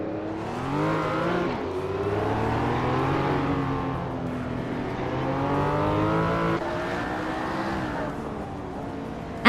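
Race cars in a racing video game roar through an overtaking move, several engines revving and shifting in rising and falling pitch sweeps, loud and continuous with no talk.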